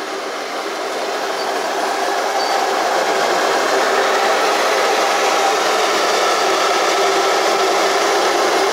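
A 63-pound RC bulldozer pushes a log of similar weight with a steady, loud grinding whine that builds and holds without a break, with no one talking.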